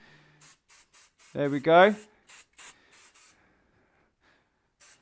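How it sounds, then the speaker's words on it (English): Hairspray sprayed onto a man's hair during a classic men's cut: a series of short, sharp hissing bursts in quick succession, close up, with a brief spoken phrase among them and one last burst after a pause. "spray it in, push it in, spray it in"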